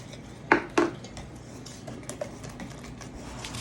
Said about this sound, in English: I'm going to go ahead and get all those wet ingredients combined together